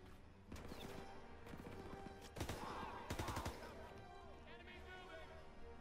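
Gunfire in the Call of Duty WW2 campaign, with a few sharp shots and short bursts over steady battlefield ambience, and a voice speaking faintly in places.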